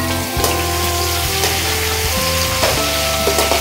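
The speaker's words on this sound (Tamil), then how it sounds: "எல்லா கர்ணக்கிழங்கையும் எடுத்து போட்டுட்டு எண்ணெயோட கிளறி" Pieces of elephant foot yam being stirred in hot oil in a pan, giving a steady close sizzle and frying hiss with soft scraping stir sounds, no talking.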